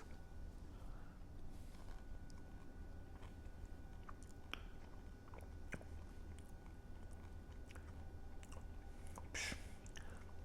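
Close, quiet chewing of undersoaked, still-crunchy Huel Cajun pasta, with intermittent crunchy bites and soft squishy mouth sounds, irregular and up near the microphone.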